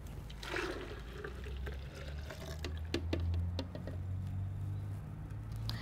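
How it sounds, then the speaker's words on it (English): Water swishes and pours as a blender jar is rinsed out after making almond milk, a close, continuous sloshing and trickling with small knocks and clinks, moderately quiet and without speech. "I go and rinse my blender out"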